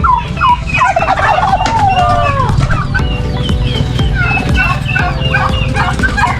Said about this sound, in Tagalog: pato at saka pabo